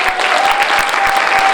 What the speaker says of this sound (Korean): 강훈식 의원님과 김경수 의원님께 큰 박수 한번 부탁드리겠습니다